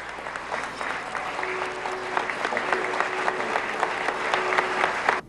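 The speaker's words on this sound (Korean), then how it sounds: "많은 사람들의 박수갈채" Many people applaud at an award ceremony where a church pastor is honoured, a sustained, even roar of clapping that holds steady for several seconds and stops abruptly, with a faint steady tone beneath.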